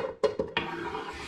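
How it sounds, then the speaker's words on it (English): Apple and onion mixture tipped into a slow cooker, giving three quick clattering thuds and a soft sliding rustle up close, with no talk. "And then my apple and onion mixture goes into the slow cooker."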